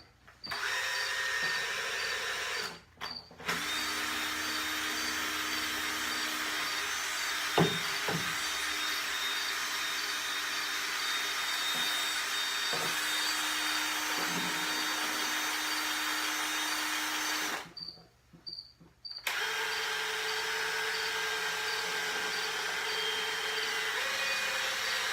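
A cordless drill whirs steadily for long stretches, briefly stopping twice, a sustained motor drone while mixing.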